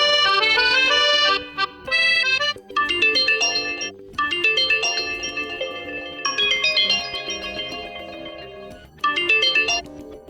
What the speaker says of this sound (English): select your new phone ringtone from the list